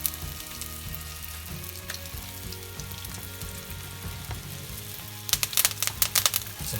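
Crushed garlic sizzling in hot oil with thyme in a pan, a steady broadband fry throughout, with sharper spattering crackles bursting in near the end; no voices.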